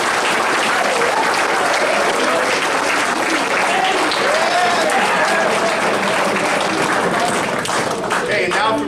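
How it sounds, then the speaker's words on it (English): Senior award night audience at a high school breaking into loud, sustained applause, dense clapping from a crowd with a few cheers mixed in throughout. "I would just like everybody to just give them a round of applause"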